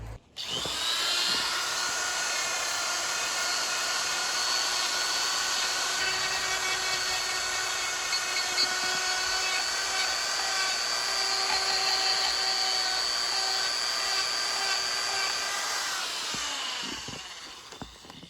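A high-pitched rotary carving tool whines steadily for a long stretch, sanding a wooden owl carving with a constant buzzing tone before spinning down.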